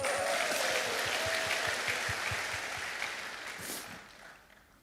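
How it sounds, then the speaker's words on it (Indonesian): A church congregation claps together in a fairly loud, rhythmic burst that gradually thins and fades out over a few seconds. "Kalau gitu perlu dikasih tepuk tangan ya."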